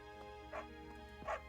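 A dog gives two short barks at a distance, faint and separated by about a second, over a steady low hum.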